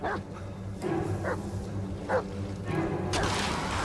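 A dog in the Blair Witch video game barks three or four separate times over a low ambient background, moderately close.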